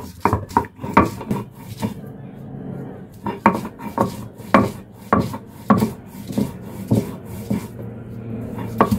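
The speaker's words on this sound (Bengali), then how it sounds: "এখন আমি শিলপাটা বেটে নিতেছি, সব একসাথেই বাটবো।" Ginger and spices being ground on a stone grinding slab for a chicken korma, the stone scraping and knocking in a steady rhythm of repeated strokes, close and clear with little else in the background.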